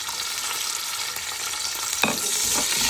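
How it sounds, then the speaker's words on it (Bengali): White pulao with cinnamon, cardamom and bay leaf being stirred in a pan: a brief scrape and shuffle of the spoon over a steady sizzle, close and fairly quiet, with no talking. "একটু নাড়া দিয়ে নেব।"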